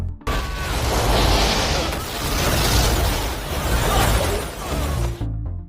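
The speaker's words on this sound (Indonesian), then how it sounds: "Meriam ditembakkan dan sekaligus mengenai tabung oksigen yang menyebabkan ledakan dahsyat" A cannon shot sets off an oxygen tank explosion: a loud, sustained blast with a deep rumbling boom and crackling debris, continuing for several seconds before cutting off abruptly.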